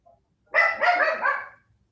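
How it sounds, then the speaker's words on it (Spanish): A dog barks in a quick run of three or four loud, close barks, then the sound stops. "¿ese perro qué?"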